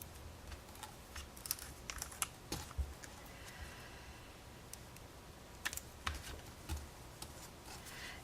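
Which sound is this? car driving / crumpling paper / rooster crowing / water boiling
crumpling paper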